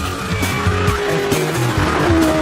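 A new Porsche Boxster driven hard on a race track against a BMW Z4, tyres squealing in long whining streaks over the loud, steady drone and rising revs of the engine, close and continuous.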